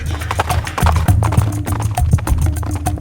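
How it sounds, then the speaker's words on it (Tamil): Horse hooves gallop in a rapid, steady clip-clop rhythm, close and loud, continuing throughout with no talk over them. "குதிரை மீது தாவியேறி விரைவாக விட்டுக்கொண்டு கடம்பூரை நோக்கி சென்றான்"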